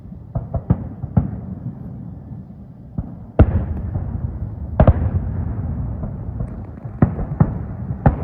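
Fireworks during a grand finale at Disney's Fort Wilderness campground: a string of sharp bangs and crackling bursts, some distant and some louder, over a steady background rumble.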